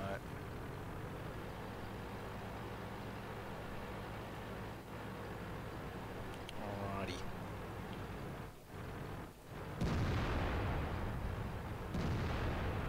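Tank gun shots in a World of Tanks tournament match on the Ghost Town map, a few booming reports with heavy rumbling tails over steady engine hum, while a commentator talks throughout.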